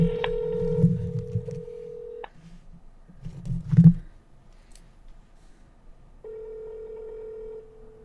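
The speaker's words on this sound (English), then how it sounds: "I don't know why it's going straight to voicemail." Phone call tones with no speech: a steady electronic tone, a pause with clicks and rustling handling noise, then the tone again, as the call goes straight to voicemail.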